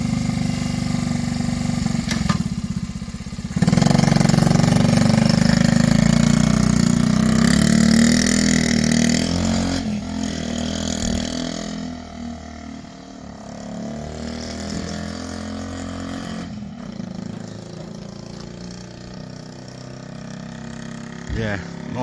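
A 1969 Honda Z50 minibike runs on a test ride, its small engine giving a loud, steady drone that builds, then falls back to a lower hum as it moves off, with people talking over it.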